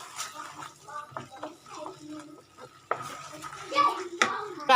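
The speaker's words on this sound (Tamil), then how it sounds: "நெய் வந்து சேர்த்துட்டு இதை நல்லா மிக்ஸ் பண்ணி எடுத்துக்கோங்க" A spoon scraping and stirring thick banana halwa with ghee in a pan, soft close clinks and scrapes with a faint sizzle, with a person talking over it.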